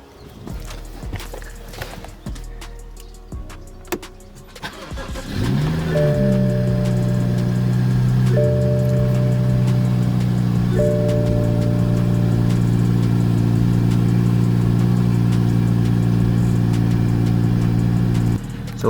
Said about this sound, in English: I'm going to start the car and take it for a drive to make sure everything still functions